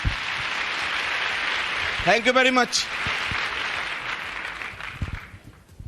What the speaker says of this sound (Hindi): ताली ऐसे बजा रहे हो जैसे सबको 2 लाख आ रहे होंगे